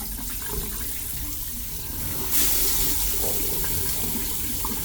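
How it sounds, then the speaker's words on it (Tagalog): A shower in a ship's cabin runs steadily with a dense hiss of spray. Partway through it suddenly grows louder and brighter as the flow strengthens. "lumakas yung shower ko"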